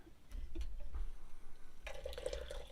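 Moroccan tea poured from a glass back into the teapot, a brief close splash and trickle of liquid rising near the end after a few soft knocks, quiet overall.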